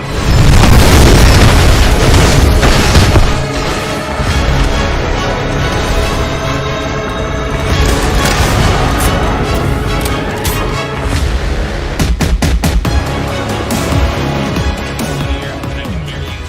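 Deep booming explosions from the intro of the Starfield video game, loud and sustained with rumbling bursts and a cluster of sharp pops near the end, no talking.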